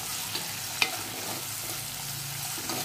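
Tomatoes tossed onto softened onions in a mud pot for Kolhapuri chicken curry make a steady, close sizzle, with a few faint clicks of stirring over the continuous hiss.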